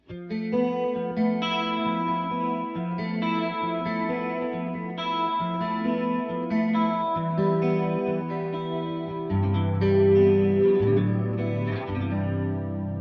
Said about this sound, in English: Number 6 is a chorus sound.